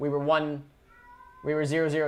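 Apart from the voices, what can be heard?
pet cat crying, meowing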